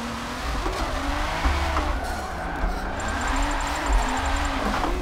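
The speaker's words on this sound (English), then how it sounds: "I hear a race car behind me." A race car engine in the Forza 7 driving game drones steadily through a drift run, with tire squeal and skidding in the mix. The sound is continuous and fairly loud for the whole stretch.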